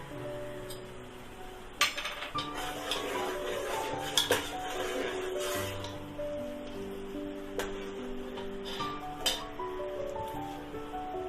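Boondi being stirred into cardamom-flavoured sugar syrup in a pot with a spoon, giving irregular metallic clinks and scrapes against the pot's sides and light rustling in between, close and without talk.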